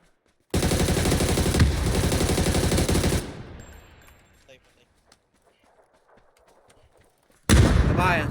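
Sustained automatic gunfire in a battle-royale shooter game, a loud continuous burst lasting about three seconds that trails off into quieter scattered noise, then a second loud burst begins near the end.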